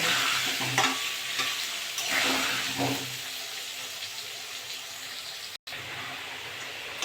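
Potatoes frying in hot oil with turmeric for a home-style chicken and potato curry, stirred in the pan. A steady close sizzle runs throughout with scraping stir strokes and no talking.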